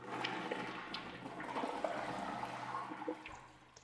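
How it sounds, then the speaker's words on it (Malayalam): A siphonic toilet in a newly fitted bathroom flushes with a rushing gurgle of water that swirls and drains, then trickles and refills, heard nearby and alone. "നമുക്കൊന്ന് ഫ്ലഷ് ചെയ്യാം."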